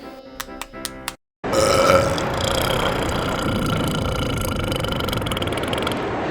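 A baby burps after a feeding in a short series of soft, close burps, followed by a brief pause and then a steady engine-like rumble and hiss.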